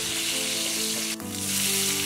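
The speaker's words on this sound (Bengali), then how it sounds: "এবার দিলাম দুটো শুকনো লঙ্কা একটা তেজপাতা" Two dried red chillies and a bay leaf sizzle in hot oil in a kadai: a loud, steady, close frying hiss that dips briefly midway, with no talking.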